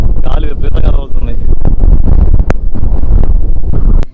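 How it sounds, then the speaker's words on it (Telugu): Strong wind near Vagator beach in Goa buffets the microphone with a loud, continuous low roar that gusts throughout, with voices briefly audible early on. "గాలి విపరీతంగా తగులుతుంది."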